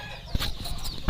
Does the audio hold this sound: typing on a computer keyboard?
no